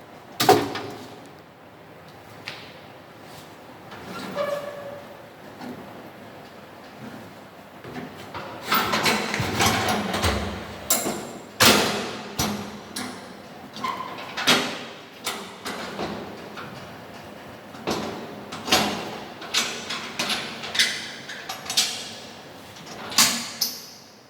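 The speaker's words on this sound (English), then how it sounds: "Close the lid and put this basket into autoclave for sterilization." An autoclave lid being closed in a microbiology lab: a string of hard metallic clunks, knocks and sliding scrapes, close and fairly loud, with busier handling toward the middle and no voices.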